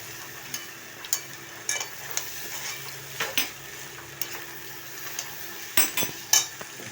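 Flattened rice (chira) stirred in a wok, with a steady run of sharp spatula scrapes and clinks against the metal over a soft background sizzle, close and clear with no talking.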